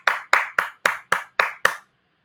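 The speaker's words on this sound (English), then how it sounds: "Let's give a big round of applause." Audience clapping at an awards ceremony: seven crisp, evenly spaced claps in a steady rhythm that stop abruptly, with no talk over them.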